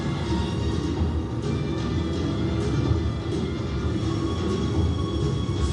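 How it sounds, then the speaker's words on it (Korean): A train rolls past close by, its loud, steady rumble and rattling wheels filling the whole stretch with no letup, while machinery noise mixes underneath. "기차가 너무 빨리 오고 있다고 얘기하고 있습니다."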